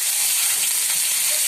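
Ginger garlic paste sizzling and hissing in hot oil while being stirred in a pan, a dense continuous frying crackle close up with no talking.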